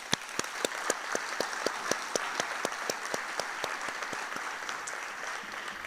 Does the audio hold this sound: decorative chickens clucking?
no